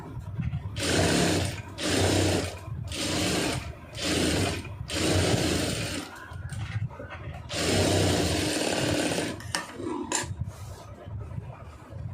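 A sewing machine stitches blouse lining pieces in loud, sustained whirring runs of a second or so each, separated by short pauses, with the rhythm turning choppier toward the end.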